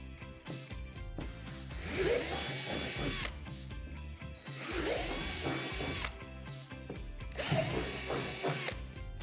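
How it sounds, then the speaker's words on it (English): A power drill with a 3/8-inch bit runs in three separate bursts, each rising into a louder grinding whine as it cuts through plastic playset slide, close and with no talking. "At the top of the slide, drill out the 3 divots with a 3/8 drill bit."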